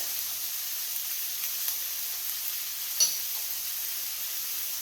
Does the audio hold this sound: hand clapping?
no